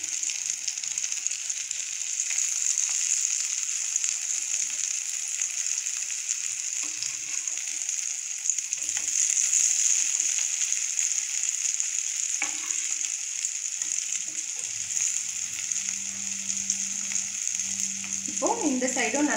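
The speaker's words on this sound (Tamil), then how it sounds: "ஷாலோ ஃப்ரை தான் பண்ண போகிறோம்." Black chickpea vadas shallow frying in hot oil give a steady, close sizzle that runs alone for the whole stretch, with a few soft scrapes and a short clatter near the end as they are turned or lifted.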